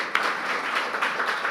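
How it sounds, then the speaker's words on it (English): A medical society event audience claps for the staff, a short burst of moderately loud applause from a seated crowd, even and continuous with a few sharper individual claps. "Big round of applause for them."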